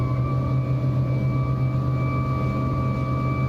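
Embraer ERJ-135 regional jet engines running during startup in X-Plane 11, a loud, steady whine and low rumble that holds constant throughout with no talking.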